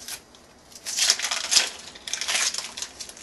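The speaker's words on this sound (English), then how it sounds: "we're going to use 1 whole onion. So I'll just go ahead and rough cut that as well." A knife rough chopping a whole onion on a cutting board for a potato eggplant tofu curry, giving soft crunchy slices and scrapes in a few uneven bursts, close and fairly quiet, with no talk.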